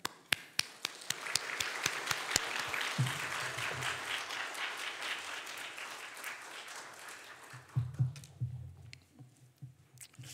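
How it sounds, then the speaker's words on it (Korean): A church congregation claps to welcome a pastor to the pulpit. It starts with a few scattered claps that swell into dense, steady applause for several seconds, then taper, with low murmuring underneath toward the end. "목사님 나오실 때 우리 박수로 환영하겠습니다"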